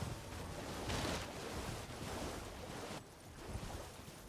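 Water rushing in a video game, a steady broad wash of noise that swells and briefly drops, fairly faint with no talk.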